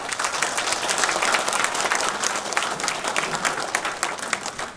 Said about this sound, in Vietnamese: Xin quý vị một tràng pháo tay cho dân biểu Hubert Bott.